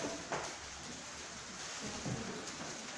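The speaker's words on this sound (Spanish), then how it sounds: "ya que comenzó a llover" Steady rain starting to come down during a church service in Costa Rica, a continuous broadband hiss with soft low rumbles like distant thunder, no voices heard.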